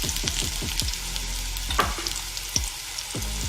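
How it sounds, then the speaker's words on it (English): Breaded vegan catfish pieces frying in hot oil, a steady close sizzle broken by repeated sharp crackling pops and bursts, with no voices. "we're gonna go ahead and start frying a few"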